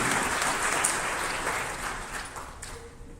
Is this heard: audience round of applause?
yes